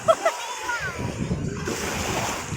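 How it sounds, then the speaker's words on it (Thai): Strong sea waves rush and splash onto a Thai beach in the rainy season, with murky water. The surf is loud, close and continuous, and excited voices call out over it at the start. "คลื่นแรงมากคลื่นแรงมาก"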